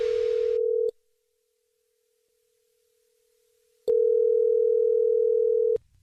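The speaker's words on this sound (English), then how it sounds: "It's another Jubal phone prank." A telephone dial tone for a morning radio phone prank plays as a steady, clear, unbroken tone for about a second. It stops into silence, then returns alone for nearly two seconds before cutting off.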